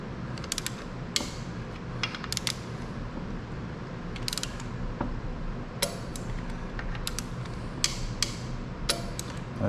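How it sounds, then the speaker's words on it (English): A wrench tightens bolts on a Turbo 400 transmission, giving repeated quick ratcheting clicks in short irregular bursts. The clicks stand out over a steady low shop hum, fairly close, with no voices. "get the torque wrench."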